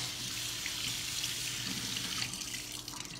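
Tap water runs steadily into a sink while food is rinsed in a colander, a continuous close splashing rush with no talk over it.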